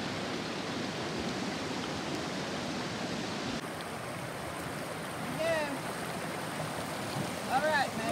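Richland Creek flowing near a waterfall in Arkansas, a steady broad rushing wash heard up close, with faint bird chirps and a few brief voices over it.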